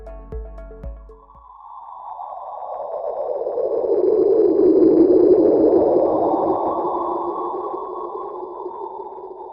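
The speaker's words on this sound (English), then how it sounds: "take a listen to the sound of a black hole echo." A sonification of X-ray echoes from a Milky Way black hole: a few low tones give way to a swelling, hissing drone that rises and slowly fades, eerie and synthetic, with no voices.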